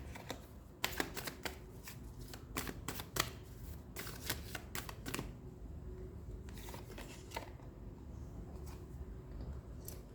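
Tarot cards shuffled by hand in quick riffling bursts, close and fairly quiet, with several crisp flurries early and sparser ones later.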